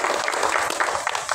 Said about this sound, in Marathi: मस्त आणि अंगभावांसाठी आणि सर्वांसाठी पुन्हा एकदा जोरदार टाळ्या.